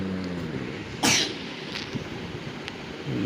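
A girl with a cold gives a single short, sharp cough in a quiet kitchen, heard once in the middle against low background noise.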